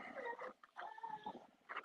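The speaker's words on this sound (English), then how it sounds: "That's my beagle whining like that." A pet beagle whines indoors near a craft workbench with a scroll saw, giving a few strained, nasal cries in short bursts with brief pauses between them, fairly close and moderately loud.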